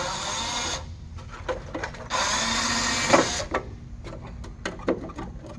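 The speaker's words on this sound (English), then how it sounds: "we're going to take this quarter vent out with our snap-on cordless screwdriver" A Snap-on cordless screwdriver backs out a quarter vent screw on a 1970 Camaro, giving two sustained bursts of motor whine broken by short clicks and taps of handling, close and fairly loud.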